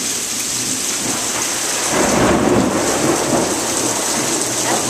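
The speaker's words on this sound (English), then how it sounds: "there's our big storm we're getting right now." Heavy rain roars steadily while a deep rumble of thunder swells midway through, loud and close.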